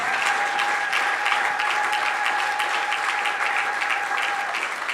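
A church congregation applauding arriving guests, dense sustained clapping from a large crowd, steady and fairly loud throughout with a faint tonal hum beneath.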